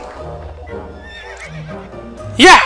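A horse in the To the Moon video game gives a loud, sharp whinny near the end, after a stretch of soft, steady game background sound.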